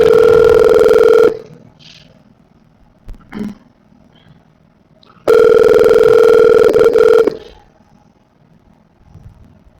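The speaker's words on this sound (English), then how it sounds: "She don't want to answer the damn phone." A telephone rings unanswered indoors, two loud electronic ring bursts several seconds apart with near silence and a faint knock between them.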